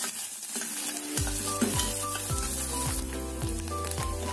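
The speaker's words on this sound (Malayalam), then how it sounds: "ഒരു ടേബിൾ സ്പൂൺ നെയ്യ് ഇട്ടിട്ട് നമുക്കിതിൽ ഈ തേങ്ങാക്കൊത്ത് നന്നായിട്ട് ബ്രൗൺ കളറിൽ വറുത്തെടുക്കാം" Chopped coconut pieces fry in a tablespoon of ghee until browning, a continuous close sizzle that runs throughout while background music enters after the first second.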